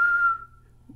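A person whistles a single sustained note that imitates blowing a whistle while alone in the woods, close and clear, fading out after about half a second.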